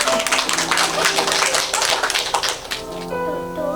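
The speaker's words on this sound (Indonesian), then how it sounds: "Baik, tepuk tangan saudara yang kasih." Congregation at a church wedding blessing breaking into quick, crowded applause that fades after a few seconds into lingering sustained tones from music or voices.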